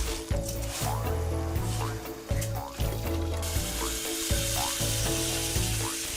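Rice being washed in water until it runs clear, with repeated swishing and sloshing strokes in a steady rhythm and splashing close by, under background music and some talking.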